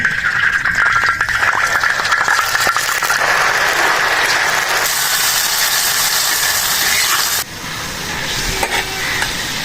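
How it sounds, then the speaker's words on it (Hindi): Minced meat (tawa keema) sizzles steadily in hot ghee in a pan, a loud, continuous hiss and crackle with some stirring rattle that shifts and eases slightly near the end. "घी गर्म होने से पहले हम इसमें शामिल करेंगे जी कीमा।"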